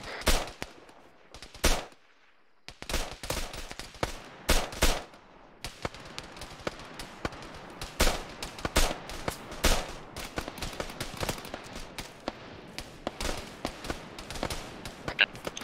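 Rapid bursts and single gunshots from rifles and machine guns in a close-quarters assault in Arma 3, cracking close and loud, with brief pauses between volleys and occasional voices underneath.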